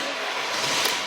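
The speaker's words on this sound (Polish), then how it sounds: "Słychać, że pali, nie? Odpalone auto." A car engine idles steadily after starting, a continuous close running hum with a faint bump near the end.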